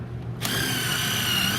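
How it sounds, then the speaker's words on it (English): A power drill starts up and runs steadily, driving a 3-inch screw through a pilot hole into a wooden board while building a platform, a continuous close whirring motor sound with no talk. "The next thing we're going to do is drill this in just like we did the ends."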